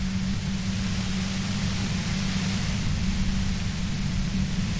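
Steady, dense white noise hiss from the detective game Disco Elysium fills the space evenly, with a low droning hum underneath and no variation or speech throughout.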